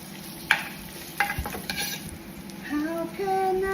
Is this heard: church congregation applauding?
no